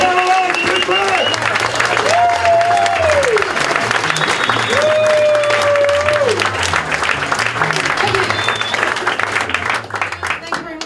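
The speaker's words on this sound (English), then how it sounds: "Just give her an applause." Audience applause at a stand-up comedy night in Antwerp, sustained, dense clapping filling the room for about eleven seconds, with a voice speaking and cheers rising over it.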